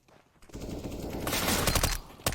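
A quick burst of MP5 submachine gun fire in CS:GO on Dust II, a dense rattling volley building after a short lead-in and dominating the brief moment.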